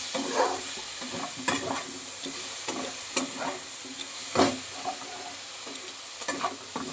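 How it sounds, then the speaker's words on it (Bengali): Prawns cooking in mustard-poppy masala sizzle steadily in a pan, with repeated scraping stirs of a spatula cutting through the close, continuous frying hiss; no talking. "এবার আবার একটুখানি কষিয়ে নেব।"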